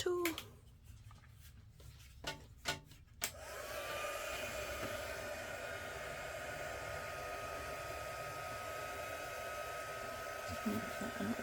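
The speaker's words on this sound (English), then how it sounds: "And then pull up my heat tool." A heat tool for card crafting switches on after a few seconds of tapping and handling, then blows hot air as a steady, loud whooshing hiss with a faint whine that continues to the end; a person talks briefly at the start.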